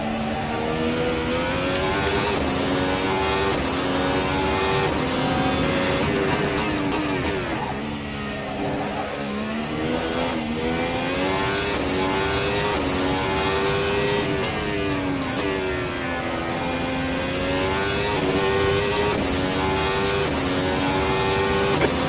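A race car in Assetto Corsa laps the Nürburgring, its engine droning loud and steady throughout, pitch rising and falling through gear changes with a few dips under braking.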